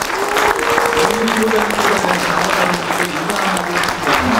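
Sustained loud applause from a convention audience for a newly chosen presidential candidate, continuous dense clapping with a voice speaking over the top.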